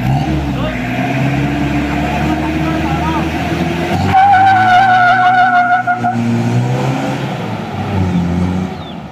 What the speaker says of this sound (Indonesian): Turbonya masih kurang bengir, turbonya masih kurang jangkrik.